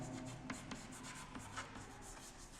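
Pen scratching across paper as notes are written by hand during a microbiology lecture on E. coli, a soft continuous rubbing with faint strokes, fairly quiet and steady with no talk over it.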